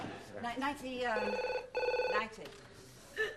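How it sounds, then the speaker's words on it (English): A telephone bell rings in two long trilling bursts in a domestic setting in a 1995 sitcom, moderately loud, with talk and background voices running underneath. "That seems to be the phone."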